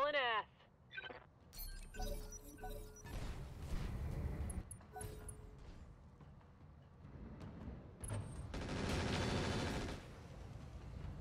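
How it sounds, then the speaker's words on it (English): Machine-gun fire in the mech combat game RogueTech, bursts of rapid shots and impacts spread across the clip, loud and dense, with a sharp chirping tone at the start and heavier roaring volleys near the end. "Wow, machine guns hitting at that range?"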